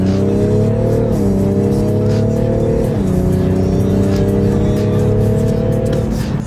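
A BMW M550d diesel accelerating hard, its loud close engine note climbing in pitch through gear changes, with brief drops at each shift, and no talking.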